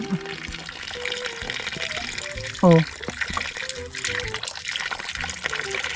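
Water runs steadily from a homemade deep well pressure pump in Mindanao, a continuous broadband wash with sporadic knocks, heard close under intermittent talking and a brief exclamation.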